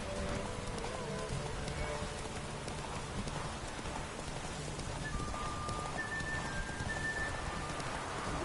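Roach the horse gallops in The Witcher 3, rapid hoofbeats drumming steadily through a rain-soaked scene with pattering rain throughout, while a voice talks over it.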